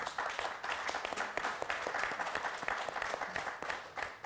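A church congregation applauds and cheers the Lord in dense, continuous clapping that fills the space at steady loudness, with a few voices mixed in under the crowd.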